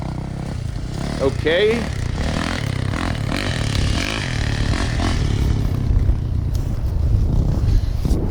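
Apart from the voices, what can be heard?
Yamaha YZ450F dirt bike riding on a hill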